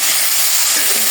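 Spices with salt, turmeric and chili powder frying in a pan give a loud, dense, close sizzle that hisses without pause.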